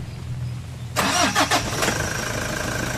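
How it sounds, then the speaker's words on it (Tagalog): After a moment of quiet, a Toyota HiAce van with low power cranks briefly and catches, then settles into a steady idle close by. "Switch off ko muna itong makina. Tapos, i-start ko ulit yan."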